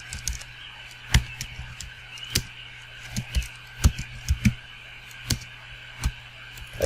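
Keys tapped on a computer keyboard while business accounting software is set up, an irregular series of sharp, close clicks spaced over a low steady hum, with no talking.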